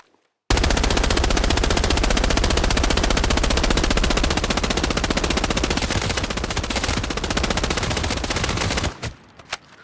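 An automatic weapon fires at 900 rounds per minute in the shooter game Arena Breakout Infinite, one long unbroken loud burst of rapid shots lasting about eight seconds before stopping abruptly.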